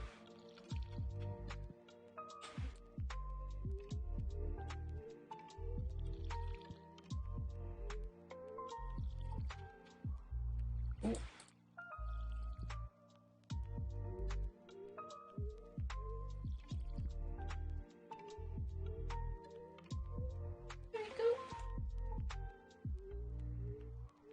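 Watering crops with a watering can in Stardew Valley, with game music: repeated short splashing, dripping pours come in steady bursts one after another, moderately loud and close, with no voices.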